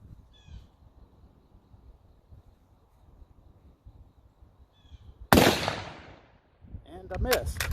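A Japanese Type 99 Arisaka bolt-action rifle fires a single loud, sharp shot that cracks out after a quiet outdoor stretch, followed by a lingering echo and then a voice speaking.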